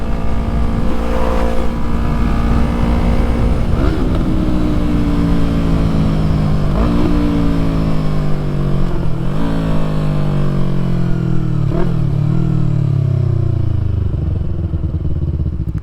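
A Yamaha MT-03 motorcycle rides on the interstate, its engine droning loudly and continuously from up close, with the pitch rising and dropping through repeated gear changes.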